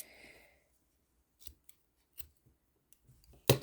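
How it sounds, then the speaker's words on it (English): Scissors snip through a crochet yarn end close by, a few short sharp cuts and clicks separated by near silence. "Just gonna cut it off"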